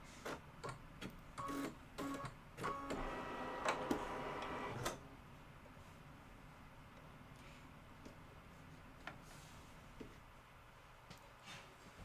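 A home embroidery machine stitches in a rapid ticking, clattering run for about five seconds, then stops, leaving a quiet room with a few faint clicks and taps.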